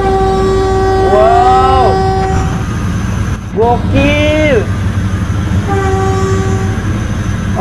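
A passing train sounds its horn in repeated loud, bending blasts over a steady rumble of rail noise while a voice speaks excitedly close by.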